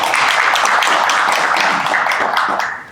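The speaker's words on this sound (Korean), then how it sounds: "박수 부탁드립니다" Applause from a seminar audience, a steady wash of many hands clapping fairly close and loud for a few seconds before it starts to fade.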